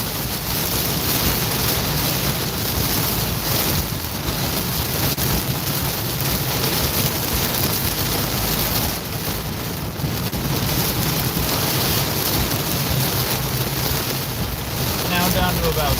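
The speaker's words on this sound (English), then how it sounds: "Oh, we had a 50-mile-per-hour wind." Strong storm wind roars continuously across the microphone during a live storm tracking session in San Antonio, Texas, with gusts around 50 miles per hour buffeting steadily and loudly throughout.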